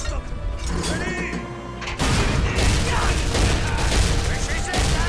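Gunfire in a Medal of Honor: European Assault cutscene, a loud clattering volley of shots and mechanical crashes that erupts after a quieter start and continues as a dense, chaotic barrage.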